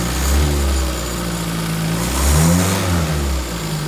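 A Toyota 4K engine in an owner-type jeep runs loud and close with a steady low rumble, its pitch rising and falling as it settles back toward idle after revving.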